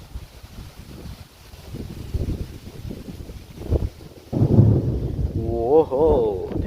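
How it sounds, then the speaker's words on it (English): A low rumble of thunder rolls in the distance amid wind noise, followed by a person speaking over it. "did you hear that thunder?"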